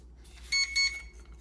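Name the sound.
toy drone beeping during sensor calibration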